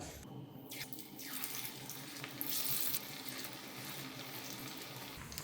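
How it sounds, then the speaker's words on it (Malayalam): Chicken pieces for restaurant-style chicken 65 fry in hot oil with a steady, dense, close sizzling hiss that holds throughout, swelling briefly midway. "നമുക്കിനി ഇത് എണ്ണയിൽ പൊരിച്ചെടുക്കാം."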